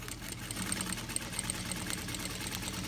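An automatic single-needle industrial sewing machine fitted with a roller foot runs hard through heavy-duty vinyl, giving a steady, fast mechanical whir with rapid stitching rattle, close and continuous throughout.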